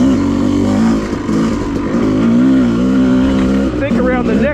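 A Yamaha YZ two-stroke dirt bike engine with retarded ignition timing, ridden along a groomed OHV trail, drones loudly and steadily close by, its pitch rising and falling with throttle through corners.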